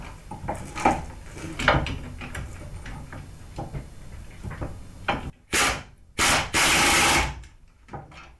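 A ratchet tightens the brake bracket bolts on a Subaru during a rear brake job, giving quiet clicking and shuffling followed by a few loud, sharp bursts of ratcheting.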